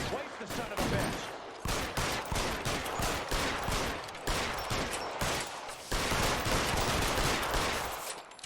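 Gunfire in the video game L.A. Noire, a steady barrage of rapid shots repeating for several seconds, loud and close, with a voice faintly under the shooting.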